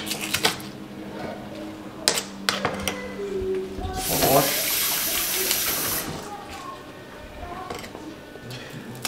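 Tap water runs over fish being rinsed in a sink, with a brief strong gush in the middle and scattered knocks and handling clatter around it. Some speech can be heard.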